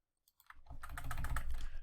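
Rapid clicking from a computer mouse and keyboard while drafting in CAD software, a quick close run of light plastic clicks with no talking.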